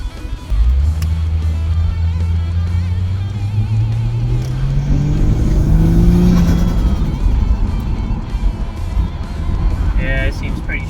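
A Ford FG Falcon with a ZF transmission accelerates hard through the gears from inside the cabin, its engine note rising steadily then dropping at a shift before climbing again, with a voice talking over it.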